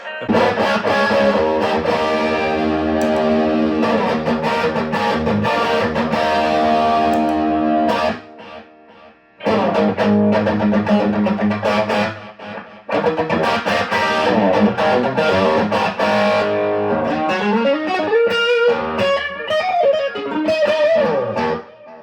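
Heavily distorted electric guitar through a Marshall 1987x amp with a gain mod plays loud chords and riffs, with short pauses between phrases and a bending lead line near the end.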